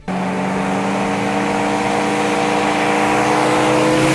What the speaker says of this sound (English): It is the 1969 Nova Yenko SC 427.